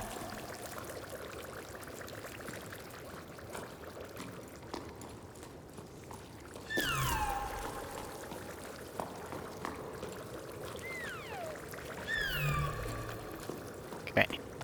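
Water bubbling in the climbing game Jusant, a soft steady gurgle with a few brighter splashy bursts, while a voice talks over it.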